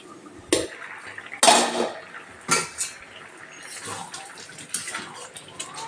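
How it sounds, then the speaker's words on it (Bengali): Dalia khichdi is stirred in a pot with a spoon, giving several loud clanks and scrapes against the metal followed by softer wet stirring and quieter knocks, with no voices. "তো ভালো করে এটা নাড়াচাড়া করছি"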